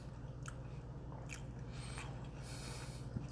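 An Envy apple is bitten and chewed close to the mic, quiet crisp crunches and wet squishy mastication, with a few sharper bites at irregular intervals.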